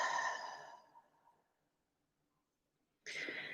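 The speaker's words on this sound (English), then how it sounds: "inhale through the nose and exhale from the mouth" A yoga practitioner exhales through the mouth in a long, breathy sigh that fades over a second, followed by silence, then a second sharp, airy breath close to the microphone.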